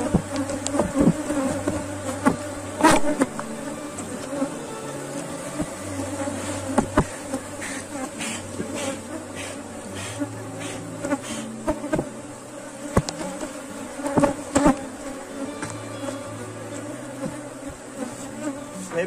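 A honeybee swarm hums around a hive box as it is moved toward a nucleus box. It is a dense, continuous buzz with individual bees droning close past, steady and alone, with no talk.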